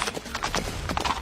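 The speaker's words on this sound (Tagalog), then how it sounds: "May kabayo pa yun." A horse's hooves clip-clop in a short, uneven run of distinct knocks, fairly close and moderately loud, over a low background rumble.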